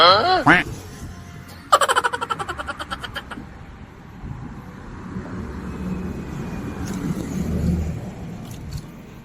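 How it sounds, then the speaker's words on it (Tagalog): Large vehicles pass along a road by the old airport in Doha, Qatar, heard from a bicycle as a rising and falling rumble that swells louder near the end, with someone talking briefly over the start. "Ang lalaki ng mga sasakyan na."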